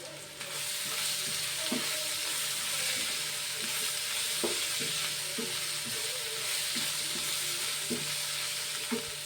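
Ginger paste frying with masala powder in a pan gives a steady close sizzle, with a spoon scraping and stirring in short intermittent strokes throughout.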